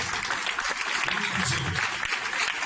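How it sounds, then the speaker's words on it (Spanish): A church congregation applauds during a sermon, a dense, steady wash of clapping from many hands lasting a few seconds at moderate volume. "Si va a aplaudir, aplaude."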